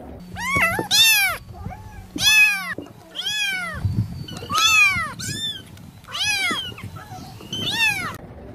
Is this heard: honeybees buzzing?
no